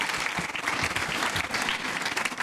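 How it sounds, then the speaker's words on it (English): An audience at a school event applauds, dense clapping that stays loud and steady for the whole stretch without voices. "Can we have a huge round of applause for them?"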